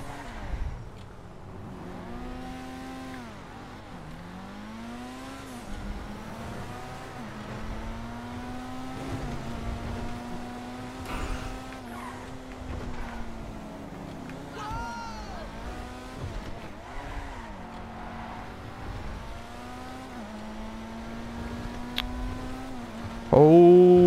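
The Pfister 811, a Porsche 918–styled supercar in GTA V, revs and accelerates through repeated gear shifts, its engine note rising and falling steadily, with occasional tire squeal and a sharp final burst.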